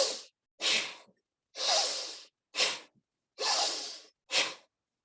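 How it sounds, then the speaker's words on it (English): Forceful breathing in and out through the nose during a breathing exercise, six strong breaths alternating inhale and exhale in a steady rhythm, close and loud, with no talking. "Forceful inhalation and forceful exhalation."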